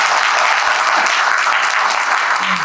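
Steady, dense applause from an audience cheering on the owner, loud and continuous with a faint voice briefly audible underneath.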